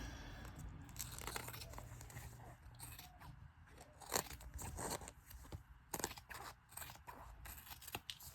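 Scissors trim paper cut from a roll for a junk journal, with close, quiet snips and crisp paper rustling and crinkling in an irregular rhythm.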